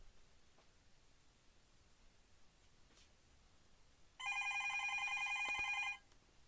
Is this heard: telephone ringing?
yes